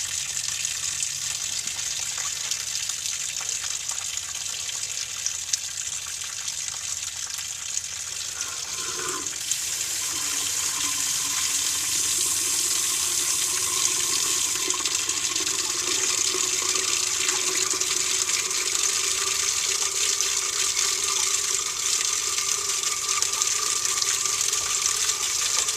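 Coolant water draining out of a Ford F250 with a 6.9 diesel engine, a steady trickling, hissing flow throughout with a slight change in tone partway through.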